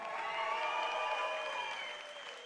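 Crowd applause and cheering for fighters at a Maltese combat sports event, a steady wash of clapping that stays fairly distant and slowly fades toward the end.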